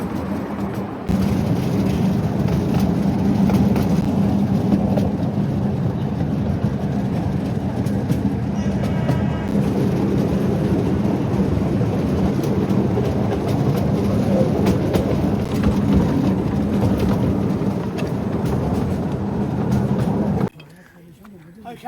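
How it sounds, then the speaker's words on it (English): A rechargeable battery model locomotive rolls along its track with a steady rumbling clatter that runs for about twenty seconds before stopping abruptly, with faint voices in the background. "There you are, folks, complete with genuine train noises."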